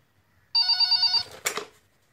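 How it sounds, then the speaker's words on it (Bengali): A telephone bell rings once as a sound effect in a Bengali audio story, a loud, close electronic trill lasting under a second, followed by a brief clatter of the receiver, with near silence around it. "ফোন বেজে উঠল"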